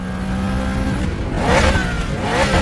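A car engine in the Need for Speed racing game revs loudly and rises in pitch as it accelerates, close and prominent with no talking.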